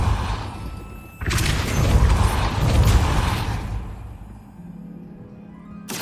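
A Depulso spell is cast in Hogwarts Legacy as a loud, rumbling magical burst. It swells suddenly, holds for a couple of seconds with mechanical creaks and whooshes, then fades to quiet, with no voices.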